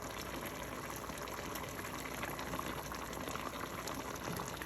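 Jamaican brown stew fish gravy simmering in a pot, a close, steady bubbling and crackling fizz continuing without pause.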